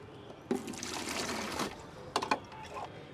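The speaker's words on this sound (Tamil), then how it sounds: "இது வந்து நான் உப்பு தண்ணி தான் ஊற்றுறேன்." Salt water poured into a fish tank made from an oil can, a steady splashing trickle that runs for about two seconds and then breaks into a few shorter gurgling pours.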